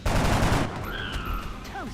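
A heavy burst of gunfire opens a battle in XCOM: Enemy Unknown, loud and dense at first, then it gives way to fading game tones and a brief rising electronic chirp.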